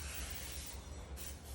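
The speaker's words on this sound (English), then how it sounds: "From a distance, you just gently spray all over." Cooking oil sprayed from a distance over a brownie pan with small cavities, a steady close hiss running continuously with slight surges and no talk.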